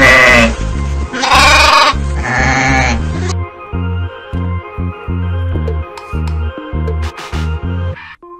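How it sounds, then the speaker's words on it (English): A sheep bleats loudly and close by in several long wavering calls at the start. Then comes a rhythmic series of shorter pulsing bleats, and it cuts off abruptly at the end. "This is Sheep Animal."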